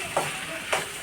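Grandma is cooking food in a pan at home, with a soft steady sizzle and two brief stirring scrapes set about half a second apart, heard close and fairly quiet with no talking.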